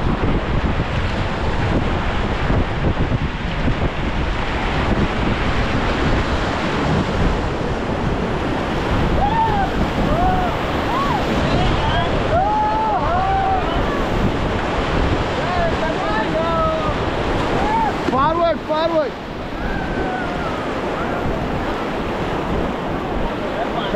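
Rushing Ganges rapids roar around a raft near Rishikesh, a loud continuous surge with wind buffeting the microphone and shouted voices breaking through in places.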